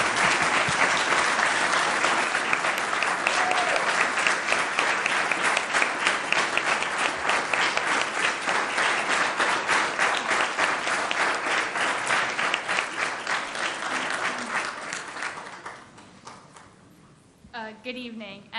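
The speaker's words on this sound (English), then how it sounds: "With that, another round of applause." Sustained round of applause at an evening business meeting, many hands clapping steadily and loudly for about fifteen seconds before tapering off into a few scattered claps.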